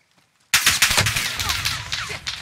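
Rapid gunfire in the Call of Duty Warzone video game bursts in after a half-second of silence, a dense, loud string of close shots continuing to the end.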